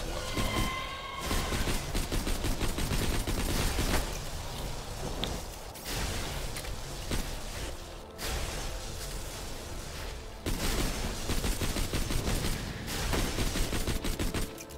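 Rapid pistol gunfire from Borderlands 2 rattles in dense, continuous bursts with brief gaps, loud and close, layered with game effects.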